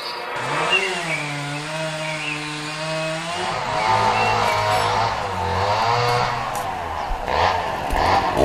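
Chainsaw cutting trees in the Kitka forest, its engine revving with a steady pitched whine that rises and drops as the blade bites into wood, close and loud throughout.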